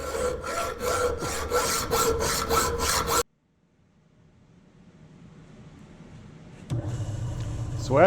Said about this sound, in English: we're going to take the hacksaw and try and saw these off